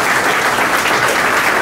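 An audience at a Guru Purnima ceremony at the Shri Swami Samarth math in Narayan Peth claps steadily, a dense, loud and even wash of applause with no pauses.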